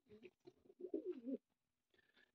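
A pigeon coos close by and quite softly. It gives a few short throaty calls, then one longer rolling coo, and after a brief silence a final short call.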